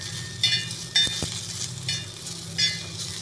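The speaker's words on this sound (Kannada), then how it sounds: "ಆಮೇಲೆ ಕೊತ್ತಂಬರಿ, ಬೆಳ್ಳುಳ್ಳಿ ಲೈಟಾಗಿ ಫ್ರೈ ಮಾಡ್ತಾರೆ" Coriander and garlic lightly frying in a pan: a low sizzle with repeated spatula scrapes and a couple of sharp knocks against the pan, heard close with no talking.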